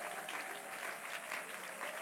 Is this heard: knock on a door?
no